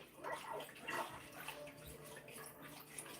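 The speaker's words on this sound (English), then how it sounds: "And I start putting my bagels in it." Bagels dropped into a pot of boiling water on a home stove give a soft, steady watery wash and bubbling, faint and close, with no talking.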